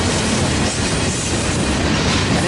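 A freight train with a rear DPU locomotive rolls past close by, a loud continuous rumble with rhythmic clickety-clack of wheels over rail joints and faint wheel squeal.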